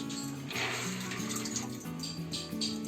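Tap water runs steadily into a container of soaked chickpeas nearby, a continuous gushing splash with no talk.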